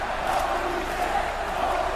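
A large arena crowd roars in a steady, dense wall of cheering during a John Cena versus John Orton-style main event in the WWE 2K24 wrestling video game, continuous and loud with no clear talk on top.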